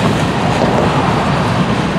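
Railroad cars being pushed along a line by a locomotive make a loud, dense, continuous rumble of rolling wheels and rattling cars, heard close by with no pause.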